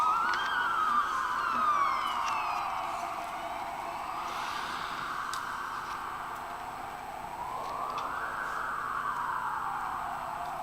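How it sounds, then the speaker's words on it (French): An ambulance siren passes by outside during a church Mass, its wailing two-tone sweep rising and falling loudly over about ten seconds, with no talk over it. "On va attendre que l'ambulance passe"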